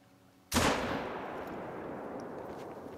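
A single loud rifle gunshot in a hunting video game, a sudden blast followed by a long rolling echo that slowly fades, with no talk.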